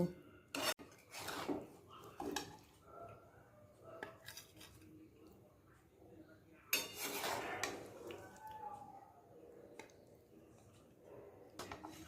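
Methi chicken is transferred into another pot, with quiet scrapes of a ladle and scattered metallic clinks and knocks against cookware, a few louder bursts of clatter among softer rubbing sounds.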